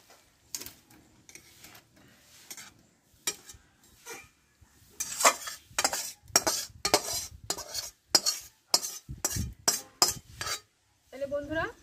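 A spatula or spoon scrapes and clatters against a pan while spicy chicken kosha is stirred, irregular close metallic strokes that start sparse and grow into a busy run of quick scrapes.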